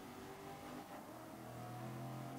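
Race car engine in the racing video game GRID, a GT4 car, droning steadily with revving tones rising and shifting throughout, loud and continuous with no talking.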